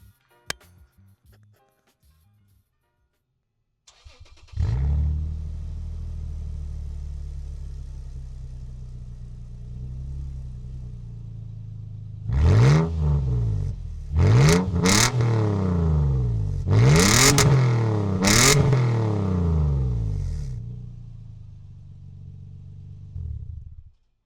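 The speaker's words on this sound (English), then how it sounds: "has the best refined exhaust noise for the Toyota Tacoma." A Toyota Tacoma prerunner pickup with an aftermarket exhaust and a torque tune starts and idles with a deep, low rumble, then gives several sharp, loud throttle revs in quick succession before settling back to idle.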